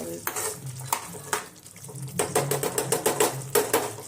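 Gobhi matar gravy bubbling and simmering in a pot on a gas stove, with irregular close plops and a spoon scraping through the thick sauce, no voices.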